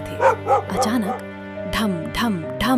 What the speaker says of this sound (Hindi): बाहर कुत्ते भौंक रहे